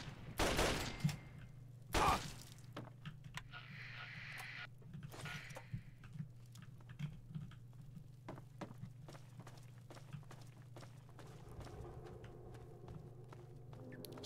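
A very loud gun fires in Fallout 3: two heavy, close blasts early on, then scattered lighter impacts and footsteps over a steady low droning hum of eerie music.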